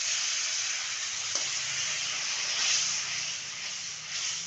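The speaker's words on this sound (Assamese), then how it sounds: "এতিয়া অলপ পানী দিওঁ আলুটো সিজিব লাগিব" Water poured into a hot pan of fried potatoes sends up a loud, sustained hiss of steam that swells and fades a little over a few seconds, with no talking.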